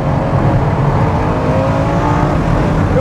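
A Ferrari LaFerrari's engine roars at high revs on a racetrack, a loud, steady, unbroken drone with a slowly rising pitch, heard from close by with no speech.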